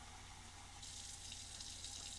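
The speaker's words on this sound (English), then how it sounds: "get 1 1/4 cups of water and put it into one bowl" About a cup of water for pizza dough streams into a bowl in a steady, soft, continuous rush with no talking.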